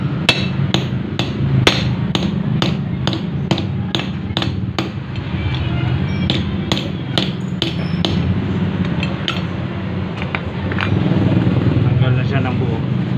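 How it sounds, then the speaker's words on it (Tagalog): Repeated metal hammer blows knock a worn, broken rubber bushing out of its mount, a steady run of sharp strikes roughly every half second over a continuous low mechanical hum, loud and close throughout. "mabilis na lang siyang matanggal sa pag pinukpok dito sa dito."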